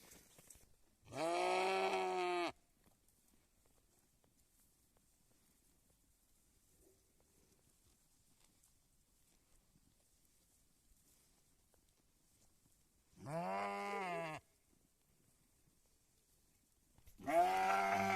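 Sheep in a village pen in Turkey bleat three times, each call a loud, nasal, drawn-out cry standing alone and separated by long stretches of quiet.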